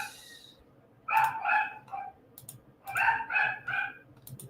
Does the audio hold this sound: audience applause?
no